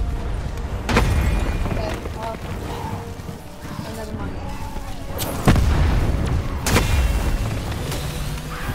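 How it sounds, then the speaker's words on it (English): Heavy booming energy blasts and explosive impacts sound in Call of Duty Black Ops 4, recurring irregularly with a few loud bursts over dense game noise, while voices talk excitedly throughout. "He's shooting an energy blast."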